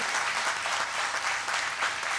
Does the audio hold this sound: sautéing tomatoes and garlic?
no